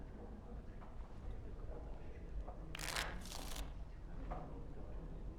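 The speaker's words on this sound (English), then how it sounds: "Before we start, the cards must be shuffled." Playing cards shuffled in a fantasy role-playing game, two quick riffling bursts in the middle over steady low background noise, with a fainter ruffle just after.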